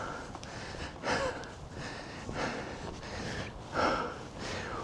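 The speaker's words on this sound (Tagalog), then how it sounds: "grabe ito yung hingal ko." A person pants heavily while walking up Calton Hill in Edinburgh, Scotland. Breathy exhales come in a slow, uneven rhythm, about three stronger puffs over a few seconds, close to the microphone over faint outdoor wind noise, with no talking.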